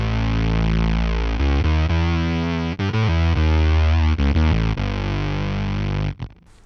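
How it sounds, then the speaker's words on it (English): Thick, buzzy synth tone from a guitar-synth pedal's four slightly detuned oscillators, chorusing and beating as it plays a few sustained low notes, loud and alone before cutting off. "that's now 4 oscillators really slightly out of tune with each other"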